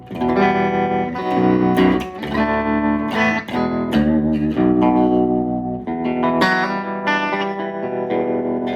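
A Squier Paranormal Baritone Cabronita Telecaster on the bridge pickup plays chords and phrases through a tremolo set to about 5 speed and intensity, the tone throbbing rapidly in volume, loud and close.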